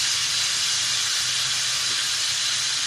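Ground red chilli and coriander powder fry with ginger and garlic in oil for chicken haleem, giving a loud, steady, close sizzling hiss that holds unbroken throughout, with no talk.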